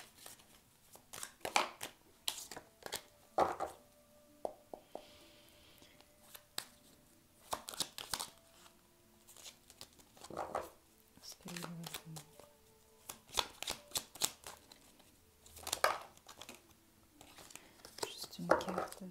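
Tarot cards being shuffled and drawn in short crisp bursts of riffling and flicking, with soft rustles between, close and quiet, under intermittent soft speech.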